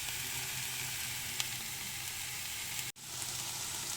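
Boiled pasta lifted straight into a pan of vegetables in a Copenhagen home kitchen, giving a steady, quiet, close sizzle with faint crackles and one brief dropout near the end.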